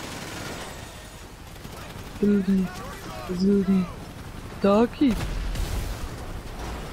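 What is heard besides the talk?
gunfire and explosions in video game GTA V Online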